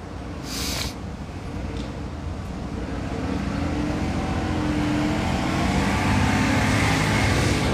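Road traffic at a bus stop in Savannah, Georgia rumbles steadily as a broad, loud wash that swells slightly over several seconds, with a brief hiss near the start.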